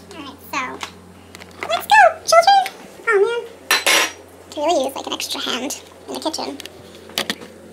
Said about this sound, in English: Can I clean all the dishes?